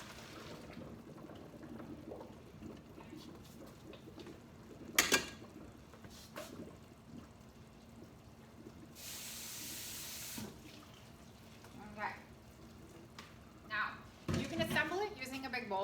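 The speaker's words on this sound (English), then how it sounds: "I'm gonna get my colander and I'm gonna drain it out." Cooked noodles for mac and cheese being drained into a colander at a kitchen sink, with water pouring and splashing in bursts alongside clinks of a pot, while a person talks between the sounds.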